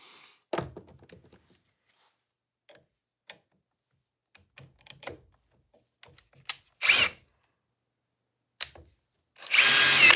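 Milwaukee Gen 2 Surge impact driver runs in several short bursts separated by quiet gaps, ending with a longer loud run, close to the microphone with no talk.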